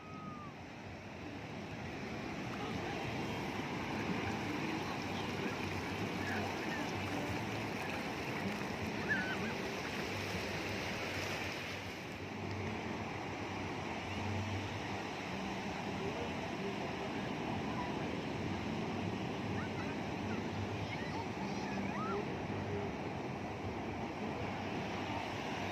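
Ocean waves and surf wash in a steady, continuous roar that fills the whole stretch, with gusty wind buffeting the microphone throughout and a slight dip about halfway through.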